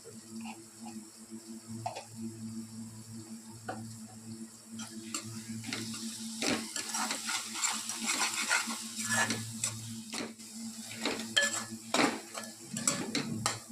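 Chicken pieces frying in oil in a pan as a spoon stirs, producing scattered metallic clinks and scrapes over a low sizzle, close but fairly quiet, with occasional faint voice in the background.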